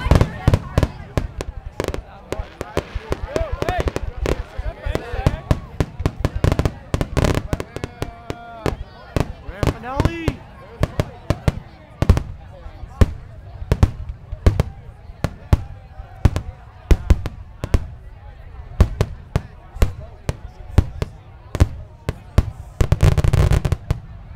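Fourth of July fireworks display at Sea Bright, a long run of sharp bangs and crackling bursts, some rapid and clustered, others spaced out, loud and nearby with voices talking in between.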